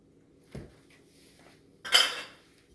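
Grated carrots go into a mixing bowl for macaroni salad, giving a soft clunk and then a sharper clatter of utensil against the bowl, two brief kitchen sounds with quiet in between.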